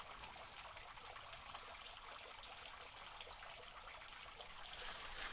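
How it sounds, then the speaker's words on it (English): A creek runs steadily over a wooded property in Laclede County, Missouri, its continuous, even rushing and trickling heard up close with no voices. "The sound of that running water is just soothing."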